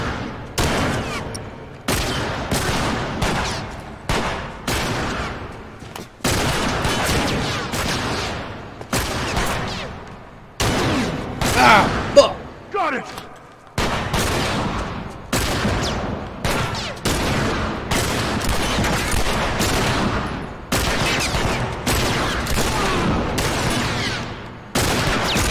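Sustained gunfire in a shootout during The Last of Us, with repeated sharp bursts and shots packed tightly across the whole stretch, loud and close, a couple of brief lulls breaking the volley and one heavier blast near the middle.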